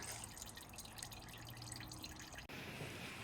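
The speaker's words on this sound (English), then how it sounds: "now I'm just going to wait for all this oil to drain as much as it can drain." Automatic transmission fluid drips from the drain of a Nissan Micra K12, a soft, steady patter of drops into a pan in a quiet garage, with a brief click near the end.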